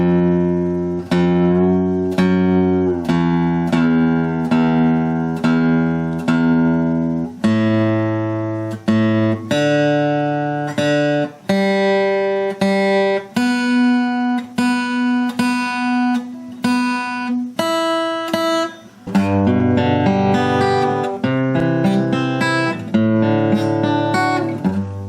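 An acoustic guitar, set up for improved sound, playing a steady run of plucked chords and single notes with sharp attacks, loud and close with no voices.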